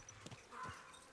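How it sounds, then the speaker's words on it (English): Horse hooves clip-clop in a video game, a short burst of a few close steps over about a second, moderately loud and with no talk over them. "I love how much the horse can carry, but it's so slow."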